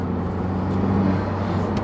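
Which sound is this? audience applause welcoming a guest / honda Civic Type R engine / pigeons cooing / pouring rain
honda Civic Type R engine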